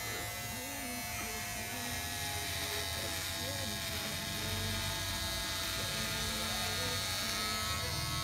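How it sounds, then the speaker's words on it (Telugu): A Philips QT4003/15 precision beard trimmer runs continuously during a live shave, giving a steady, close electric buzz that holds for the whole stretch while someone talks over it. "ఇప్పుడు నేను లైవ్గా నేను షేవ్ చేసుకొని ఎట్లా పనిచేస్తుందని చూపిస్తాను"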